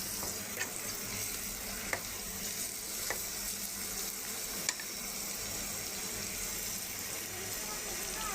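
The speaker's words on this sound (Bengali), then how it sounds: "এমনি পেঁয়াজটা একটু ভাজা করে আদা রসুন দিয়ে কষাই দিয়ে" Onions fry in a pan for a small-fish chorchori curry, a soft, steady sizzle with a few faint clinks of stirring, heard quietly throughout.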